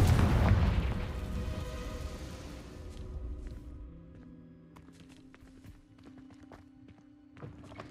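Confringo fire spell exploding in the Hogwarts Legacy video game: a loud, booming blast that rumbles and fades over several seconds, followed by faint crackling debris and light clicks.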